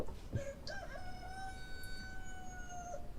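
A recorded rooster sound effect crows once, a long drawn-out cock-a-doodle-doo with a rising start and sustained tail, over steady background noise.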